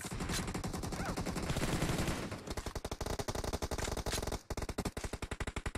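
Gunfire from an AK rifle in the mobile game PUBG Mobile, loud and close: a long stream of rapid automatic shots, then choppy bursts of evenly spaced shots with a brief pause between them.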